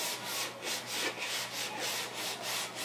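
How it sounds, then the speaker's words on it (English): Wood filler on a mandolin neck being sanded by hand, a soft rhythmic back-and-forth rasp of even strokes, close and fairly quiet, with no talking. "So just sanding down the rough spots on the neck"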